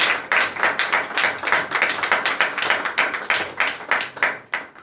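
A church congregation in Yaoundé claps during a revival worship service, many hands beating in loose rhythmic bursts with rising and falling swells, fairly near and without speech.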